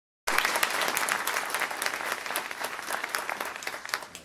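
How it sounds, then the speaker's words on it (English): Audience applause at a public launch event for a Maryland Public Defender collaborative, a steady wash of clapping from a sizable crowd that starts abruptly and carries on evenly for several seconds, slowly thinning toward the end. "give her a round of applause"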